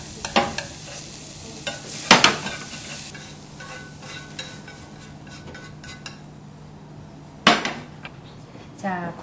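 Shiitake mushrooms are stir-fried in a pan for Korean bibim-guksu: a steady sizzle runs throughout, broken by a few sharp clatters of a utensil against the pan.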